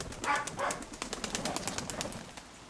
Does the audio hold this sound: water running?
no